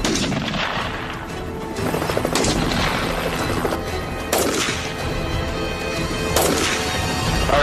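A military gunner fires rounds at a target: a series of loud, sharp gunshot blasts, roughly four heavy reports spaced a second or two apart, each ringing out with a long rumbling decay.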